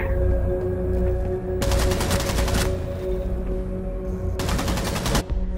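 Rapid automatic gunfire in the shooter game Rainbow Six Siege comes in two long, loud bursts of dense, evenly spaced shots, set against a steady background drone of game sound with no talking.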